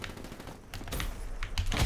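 Gunfire in the video game Black Ops 3, sounding as a rapid series of sharp shots and bursts at close range over a busy, noisy game background with no voices.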